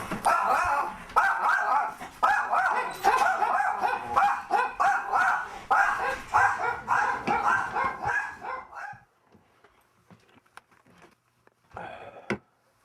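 Several dogs bark loudly and rapidly in a near-continuous volley, then drop to scattered faint yips and a final sharp bark after a sudden quiet.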